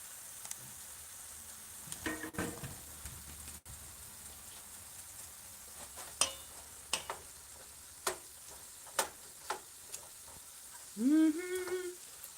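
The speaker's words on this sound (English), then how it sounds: "This meat will cook better and won't stick in the frying pan when I use the beef tallow." Beef frying in beef tallow in a frying pan gives a soft, steady sizzle with scattered pops and crackles throughout, fairly faint and with no talking.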